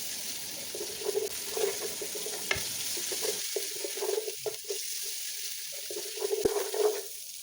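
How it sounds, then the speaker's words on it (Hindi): Boneless chicken strips stir-fried in a pan, with bursts of sizzling and stirring scrapes coming and going over a steady background hiss. "फिर इसमें हम शामिल करेंगे आधी प्याली स्ट्रिप्स में कटा हुआ बोनलेस चिकन और इसे भी स्टर फ्राई"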